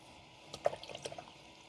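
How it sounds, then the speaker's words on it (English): A watercolor brush being swished in a cup of water gives a few faint, soft drips and splashes clustered in the middle of an otherwise quiet moment. "Mix with pure water here."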